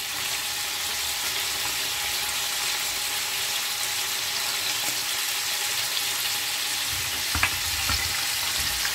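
Oil fries steadily in a pan while food is prepared for Doukkala-style couscous with dried meat, a close, constant sizzle with a few faint clinks near the end and no talking.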